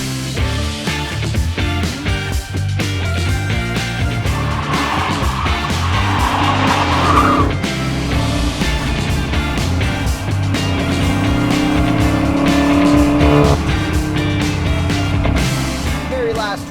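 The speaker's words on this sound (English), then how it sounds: "Very last 2023 Chrysler 300C with launch control in the wet. It's just doing a burnout." A 2023 Chrysler 300C SRT 6.4 Hemi V8 doing a burnout on wet pavement, its engine roaring loud and steady throughout with tire squeal rising over the top, a voice speaking beneath the din.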